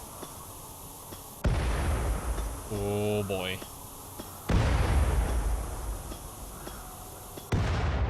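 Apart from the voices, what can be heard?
explosions in the video game Rimworld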